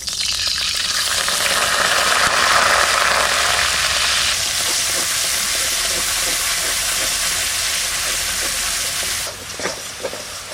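Onion paste hits hot oil in a kadai with whole garam masala spices and crackles in a loud, steady sizzle that stays close throughout. It eases slightly near the end, with some stirring.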